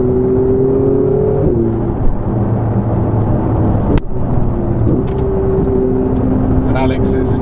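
A Ferrari 488 GTB accelerates hard from inside the cabin, its engine a loud, steady whir that climbs in pitch, with gear changes dropping the note before it rises again.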